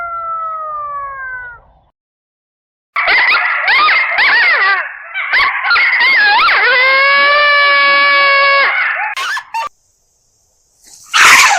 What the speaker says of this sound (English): Coyotes howling and just causing a ruckus